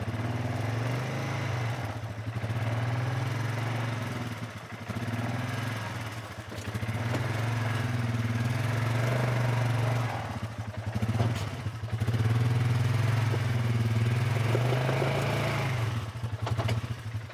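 A Polaris ATV engine labours steadily in low gear with all-wheel drive on an off-road trail, its loud mid-pitched drone rising and dipping with throttle and broken by occasional clatter, nearby and continuous.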